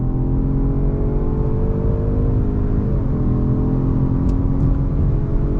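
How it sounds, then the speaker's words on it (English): A 2021 Jaguar XF sedan accelerates under throttle as its 8-speed automatic drops a gear, giving a loud, continuous engine drone and whir heard from inside the cabin with a slight pitch shift midway. "let's go on throttle. Here we go. 8-speed drops down and we are off and running."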